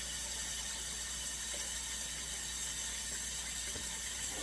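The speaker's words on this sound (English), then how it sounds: "I'm going to fill this half full with water." Water from a tap runs steadily into a cooking pot being filled halfway for chicken and dumplings, a constant close rushing hiss with no talking.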